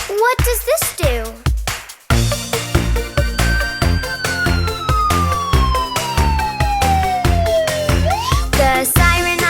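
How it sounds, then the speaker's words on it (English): A cartoon ambulance siren wails in one long, loud, falling tone over a bouncy nursery-rhyme music track with a steady beat, then swoops back up at the end. "The siren on the ambulance goes wee-oo-wee, wee-oo-wee, wee-oo-wee."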